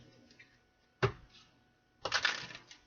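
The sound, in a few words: tarot card deck being shuffled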